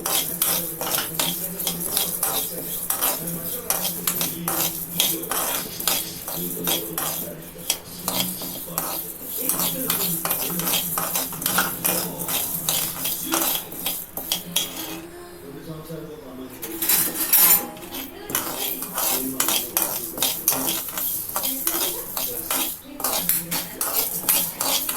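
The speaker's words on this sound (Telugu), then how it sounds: "ఇప్పుడు మెంతులు వేసుకుందాం. మెంతులు కాసేపు వేగాక" A spoon scrapes and clinks steadily in a pan as fenugreek seeds and spices dry-roast for sambar powder, a continuous close rattle with birds cooing in the background and a voice talking over it.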